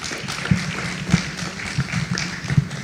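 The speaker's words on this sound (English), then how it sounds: "Give the Bankers Association a round of applause." Applause from a town hall audience on basic bank accounts and financial inclusion, honouring a bankers association: scattered clapping with several sharper individual claps standing out, moderately close, sustained for a few seconds.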